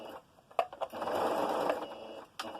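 Sewing machine stitching a dress seam, a close steady mechanical whir running for about a second with short starts and stops and light clicks around it.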